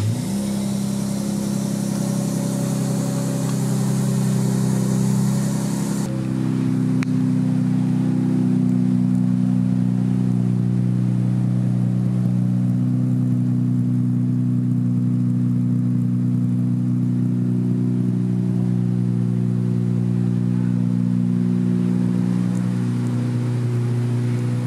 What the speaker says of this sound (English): And I can just start the car.